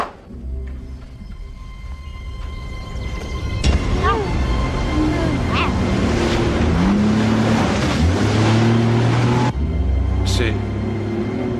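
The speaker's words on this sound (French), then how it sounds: "C'est un moteur qu'on entend." A low, steady engine drone runs throughout, rising in loudness after a few seconds, with people talking and shouting over it.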